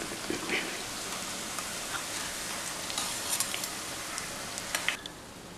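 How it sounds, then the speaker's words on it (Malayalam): Chicken cutlets fry in hot oil, giving a faint, even sizzling hiss with occasional soft pops and crackles that continue steadily from start to finish. "ഇതിൻ്റെ രണ്ട് സൈഡ് കൂടെ നന്നായി ഫ്രൈ ആയിട്ടുണ്ട് നമുക്കിത് എണ്ണയിൽ നിന്ന് കോരിയെടുക്കാം"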